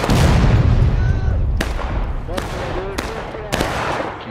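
Musket gunfire in the video game War of Rights: four sharp, loud shots crack at irregular intervals over a rumbling battlefield background.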